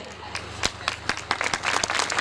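A church congregation claps during a Hindi-language sermon, with a handful of distinct, fairly close claps at uneven intervals that thicken into a busier patter toward the end.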